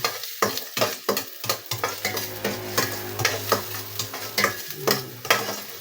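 Ginger sizzles in hot oil in a pan while a utensil stirs it, producing a steady frying hiss broken by rhythmic scraping strokes and clinks, close and fairly quiet.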